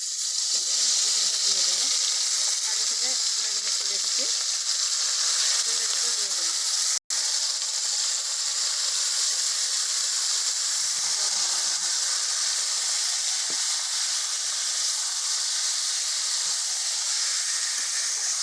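Chicken pieces frying in white cooking oil for a homemade chicken biryani, giving a steady, close broadband sizzle and hiss that runs unbroken apart from one short dropout.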